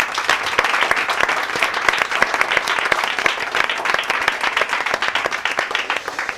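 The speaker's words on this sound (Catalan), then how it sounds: "per favor, un fort aplaudiment per la Paqui." A studio audience at a Catalan TV show applauding loudly for an honorary club member, a dense and sustained burst of many hands clapping close by.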